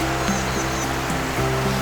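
A waterfall at Kingfisher Wetlands in Singapore pours in a constant broadband rush, close and fairly loud, with no voices over the steady flow.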